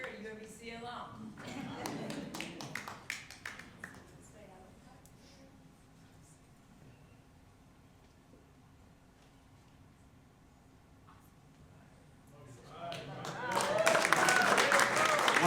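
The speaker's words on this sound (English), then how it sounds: "put your hands together for Seeker" Audience applause for the $3,000 top prize winner at a university business innovation competition, loud clapping at the start, fading to a quieter stretch, then swelling again into sustained heavy applause near the end.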